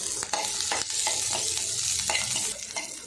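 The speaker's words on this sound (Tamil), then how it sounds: "இஞ்சி சேர்த்துட்டு வதக்கிட்டேன்." Ginger and onions sauté in hot oil in a pan for a chutney, a close continuous sizzle punctuated by regular spatula stirring scrapes.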